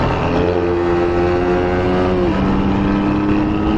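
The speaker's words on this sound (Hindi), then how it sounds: "क्या साउंड करती है कार।" An Audi TT supercar's exhaust drones steadily at idle and light revs, loud and close with a sustained engine hum that shifts pitch partway through, no voices over it.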